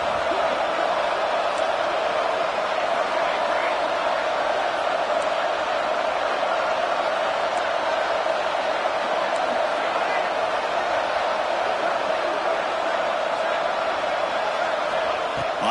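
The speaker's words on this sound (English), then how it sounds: "here comes the noise. This crowd is trying to inspire this defense to make a big red zone stop." Steady, dense roar of a large stadium crowd in a college football video game, a continuous wash of noise with no breaks, loud and sustained throughout.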